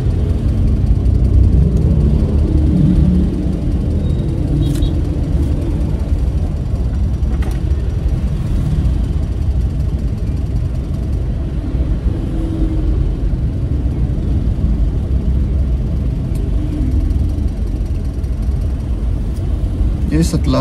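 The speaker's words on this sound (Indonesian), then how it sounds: "Ini perjalanannya macet banget." Low, steady engine rumble from a car crawling through a heavy traffic jam, a continuous close drone with faint passing traffic noise and no clear breaks.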